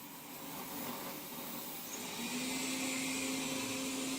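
A robot vacuum on turbo mode runs with a steady whir that grows louder and higher-pitched as its speed increases, nearby with no voices.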